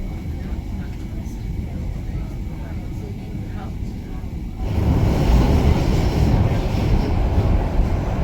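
A train running on an all-stations service to South Shields near Monument station gives a steady, deep rumble that swells noticeably louder about halfway through and holds there to the end.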